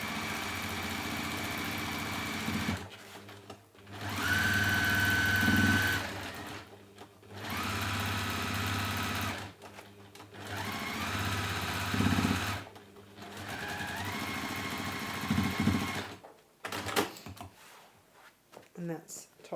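A sewing machine top stitches around a beginner pouch in several separate runs of steady whirring, broken by short pauses. A voice talks over much of the stitching.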